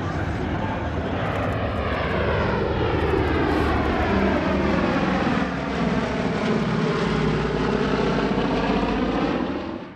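A B-17 Flying Fortress bomber flies past at a warbird airshow, its piston engines and propellers giving a loud, sustained droning roar whose pitch shifts as it passes overhead.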